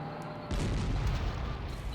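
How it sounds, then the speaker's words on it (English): Artillery fire in the Panzer Corps wargame: one sudden heavy boom halfway through, followed by a broad rumbling blast that stays loud and fades slowly, with no voices. "Yeah, the artillery has to do it"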